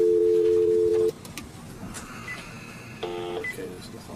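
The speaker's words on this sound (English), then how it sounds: "Dial one. No, you dial 9 first." Telephone keypad tones while punching in a number: a sustained electronic tone at the start, then after a gap a shorter burst of bright beeping tones, close and clear over faint room noise.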